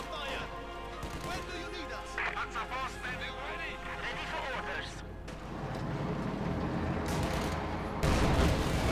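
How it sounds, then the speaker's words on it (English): Panzer IV tank gunfire in the World War II strategy game Company of Heroes 2, a dense run of shots and crashing battle noise with a heavy boom near the end, heard beneath continuous commentator speech. "There you go, shot from the Panzer IV."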